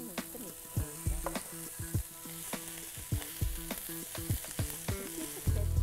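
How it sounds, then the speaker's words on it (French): Onion strips, morels and romaine lettuce sauté in a hot pan with a close, steady sizzle. Repeated stirring strokes and utensil taps sound over it at an uneven rhythm, and there is no talking. "Faire revenir les lanières d'oignons, puis ajouter les morilles et la laitue romaine et faire revenir environ 2 minutes"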